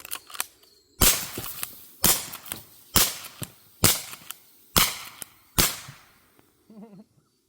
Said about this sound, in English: I only have 6 rounds left, so let's go ahead and hip fire these things.